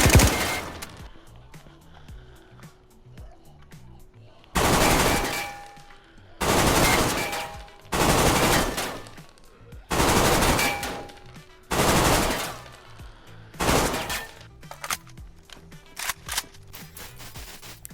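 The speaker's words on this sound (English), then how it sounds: "I was shooting so many bullets into this wall" In DayZ, automatic gunfire is aimed at a base wall in repeated loud bursts of about a second each, separated by short pauses, with quieter single shots at the end.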